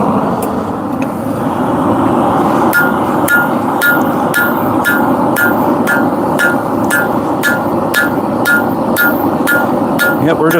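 Steady hammer blows ring out on an old ball peen hammer being forged and drawn into a spike, a regular rhythm of sharp metallic strikes close by over a constant roaring background hum.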